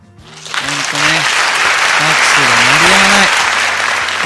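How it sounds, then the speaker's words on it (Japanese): Applause from an audience, swelling within the first second into sustained, dense clapping that keeps going steadily, with a voice speaking over it. "拍手が鳴り止まない"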